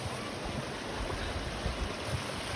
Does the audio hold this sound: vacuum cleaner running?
no